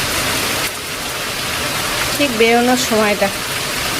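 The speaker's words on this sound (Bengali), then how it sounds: "দেখো পুরো ঝমঝমে বৃষ্টি হচ্ছে" Heavy rain pours outdoors with a constant dense rushing hiss. Someone speaks briefly over it.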